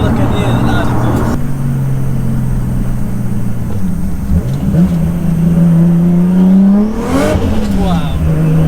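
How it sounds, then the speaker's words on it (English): Loud exhaust roar from a built 700BHP Nissan Skyline R33 GTST on the move, steady droning engine note with rising revs near the end, close and constant throughout. "All I can hear is loud exhaust."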